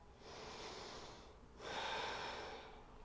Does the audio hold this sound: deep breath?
yes